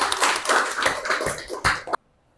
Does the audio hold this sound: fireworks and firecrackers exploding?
no